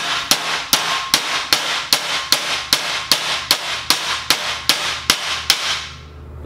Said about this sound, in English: lightly tap them in like that